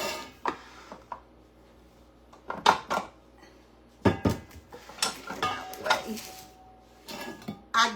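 Metal bundt cake pan pulled out of a cupboard and handled in a home kitchen, giving several sharp clanks and clatters at close range, separated by short pauses.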